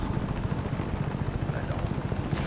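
Helicopter in the video game Just Cause 3, a steady rapid rotor chop with loud engine hum, continuous and close throughout.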